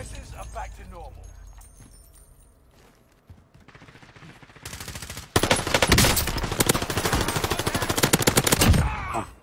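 Rapid automatic gunfire in a video game bursts in loudly after a quieter stretch with faint scattered sounds, continuing as a dense rattling stream of shots to the end.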